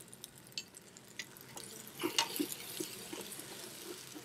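Tomato paste and flour being stirred in a pot for lobster bisque, faint scraping and soft sizzling close by, with light irregular clicks of the utensil and no talk.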